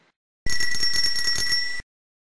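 A comedic detector alert sounds as a bright, ringing ding-like bell tone with rapid repeated strikes, loud and alone for about a second and a half before cutting off.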